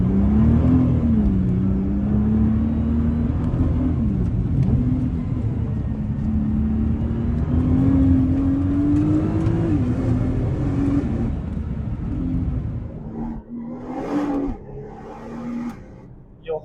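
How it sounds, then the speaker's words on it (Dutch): Cabin noise inside a moving Nissan R35 GT-R, with a steady loud engine drone and turbo whir that rises and falls with throttle, plus heavy drivetrain and differential rumble, briefly easing off near the end. "Je hoort heel erg de turbo's"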